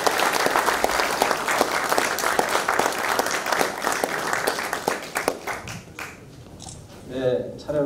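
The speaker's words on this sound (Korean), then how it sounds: "다 함께 박수로 존경의 인사를 드리겠습니다." Assembly members at a Korean church council's general meeting give sustained, dense applause that fills the room, then gradually thins and fades out near the end.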